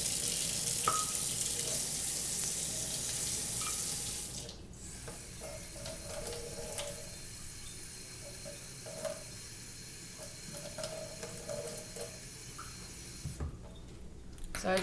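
Hot water pours from a kitchen tap into a measuring cup, first as a loud, bright rush, then a quieter trickling spatter with small clinks, and finally a brief return of the louder flow.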